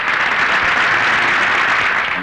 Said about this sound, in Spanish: quiero que le rindamos un aplauso